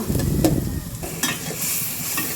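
Potatoes frying with spices in a pan for a rohu fish curry, a steady close sizzle broken by scraping stirring strokes.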